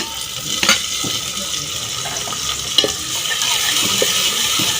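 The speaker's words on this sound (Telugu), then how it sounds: "ఇప్పుడు ఈ ఉల్లిపాయలు పచ్చిమిర్చి వేగినాయి కదండి" Sliced onions and slit green chillies frying in a pan for country chicken curry, a moderate steady sizzle with a few scraping stirs and clinks breaking through.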